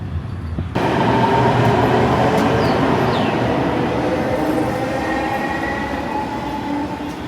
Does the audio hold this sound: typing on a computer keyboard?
no